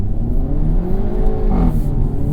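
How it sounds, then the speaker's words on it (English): A 2025 Hyundai Elantra N with a DCT, traction and stability control off and cold tires, is floored through a right turn, its engine note climbing loudly and close amid a brief hint of wheelspin. "me taking a right turn and flooring it"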